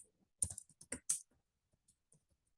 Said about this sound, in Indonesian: Kemudian kita ketik nama kita.